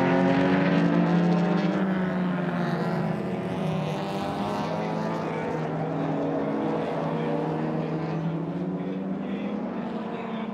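Race cars, including a Ferrari, roaring down the back straight of the Hungaroring, a continuous loud engine drone with gliding pitch that fades slightly as the cars pull away.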